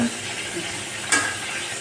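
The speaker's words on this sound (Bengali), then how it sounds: "এখন এটা ফ্রাই করা হচ্ছে তেলে সাদা তেলে ফ্রাই করা হচ্ছে" Marinated chicken pieces frying in white oil, a steady close sizzle throughout with a brief sharper clatter of a utensil near the middle.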